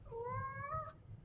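A house cat gives a single clear, drawn-out meow close by, rising slightly in pitch and ending abruptly, then a quiet room.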